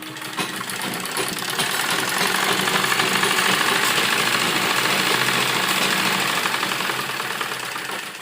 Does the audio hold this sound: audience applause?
no